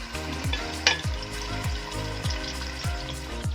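Chicken pieces frying in ghee in a karahi for Afghani chicken karahi, a dense continuous sizzle with repeated rhythmic scraping strokes of a spoon against the pan, close and fairly loud, without voices.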